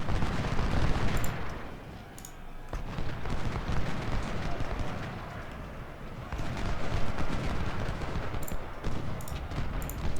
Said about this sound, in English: Let's fire at the ones that are out of cover and we'll try and wrap these up.